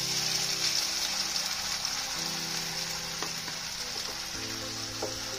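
Onions frying in a small amount of oil in a pan while making butter mushroom, giving a steady, close sizzle and crackle throughout with occasional faint stirring clicks, no voices.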